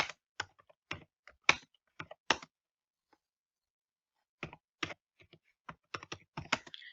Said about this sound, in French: Je vais taper ça ici rapidement. Je vais taper le prix du Bitcoin.